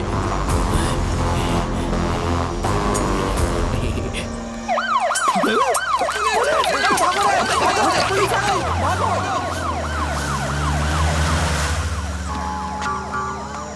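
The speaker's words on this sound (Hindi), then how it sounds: "पुलिस नहीं, एम्बुलेंस।" An ambulance siren whoops in rapid rising-and-falling cycles, loud and close, rising over a dramatic music track that plays throughout.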